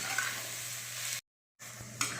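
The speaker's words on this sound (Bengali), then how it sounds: "পেঁয়াজটা ভাজা হচ্ছে কিন্তু ঘর সারা মোমো করছে সেই গাওয়া ঘিয়ের গন্ধে" Chopped onion frying in ghee, an even close sizzle and hiss broken by a brief silent gap, then resuming with a light clink of utensil.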